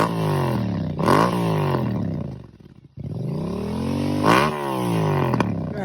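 A stock 2025 Kawasaki KLX 300 dirt bike pulls away loud and close, its single-cylinder engine revving up through the gears, then dropping off briefly before accelerating hard again.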